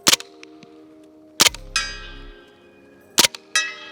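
A suppressed MP5 fires at a steel target: sharp close shots in quick pairs, each followed by a bright metallic ring from the struck steel that decays over a second or so. No talking.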